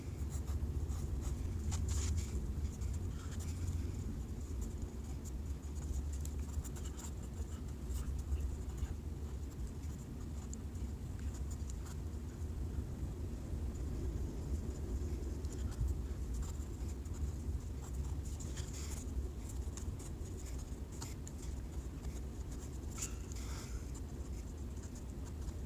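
A pen scratches steadily as quantum optics equations are written out by hand, a close, continuous scribbling with brief pauses and a low background hum, no voices.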